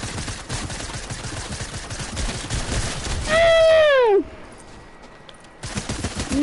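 Rapid automatic gunfire rattles in a video game firefight, a dense stream of shots followed by a loud falling whine and then a brief quiet.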